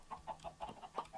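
Minecraft chickens in a pen clucking in quick, quiet bursts, a run of soft rhythmic calls at low volume with no talk.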